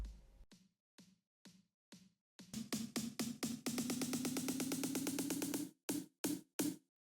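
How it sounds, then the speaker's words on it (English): An EDM snare fill starts with sparse, spaced hits, then quickens into a dense, rapid roll before breaking into a few final accented strikes, all punchy and up front. "And this is a snare fill."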